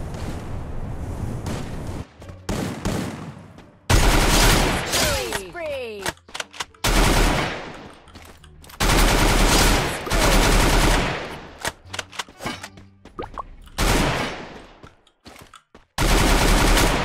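Rapid bursts of automatic gunfire in the Free Fire battle game, loud and close, coming in repeated long volleys separated by short pauses, with a few single shots and a brief voice between bursts.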